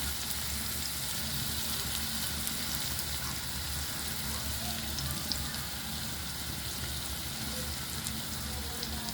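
Onion frying in a pan and browning until reddish, a steady broadband sizzle and crackle running evenly throughout, close by with no talk.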